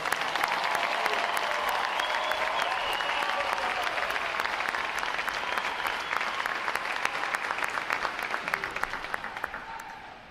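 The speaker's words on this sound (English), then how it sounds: "how about a round of applause for the other 12 graduating divisions today, folks?" Sustained applause from a large audience at a US Navy recruit graduation ceremony, dense steady clapping that fills the whole stretch and tapers slightly toward the end.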